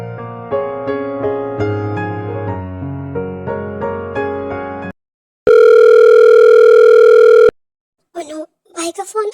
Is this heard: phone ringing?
yes